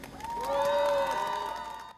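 Supporters cheer and shout as Ahn Cheol-soo announces his run in South Korea's 21st presidential election, a loud, sustained crowd roar that swells and holds for about two seconds, with whistle-like tones riding above it.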